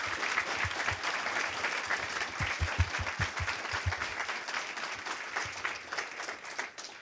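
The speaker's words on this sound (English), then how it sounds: "Ladies and gentlemen, please give them another round of applause." Audience clapping for high school debate championship finalists, a steady dense round of applause with a few sharper individual claps standing out near the front, sustained throughout at moderate level.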